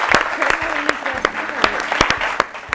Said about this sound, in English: So special round of applause to team number 1.